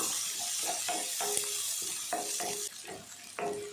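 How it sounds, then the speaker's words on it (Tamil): Onion, garlic and green chili sauté in a pan, a steady sizzle marked by about eight rhythmic scraping strokes of a spatula, close and moderately loud, with no talking. "வெங்காயம் பூண்டு பச்சை மிளகாய் எல்லாமே நல்லா வதங்கணும், நல்லா வதக்கிடலாம்"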